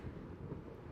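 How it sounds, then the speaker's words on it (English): Strong outdoor wind buffeting a microphone, a steady loud low rumble that fills the whole moment with no talking. "There's so much wind ongoing and it's super windy today."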